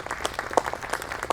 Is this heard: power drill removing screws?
no